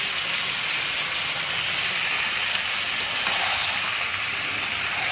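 Steady, close sizzling of food frying and being sautéed in a salted pan, with faint stirring clicks over a continuous hiss.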